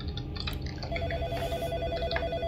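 A telephone rings in a dark room in the first-person horror game In Sound Mind, a steady electronic ring tone repeating over a low droning ambience, with no talking.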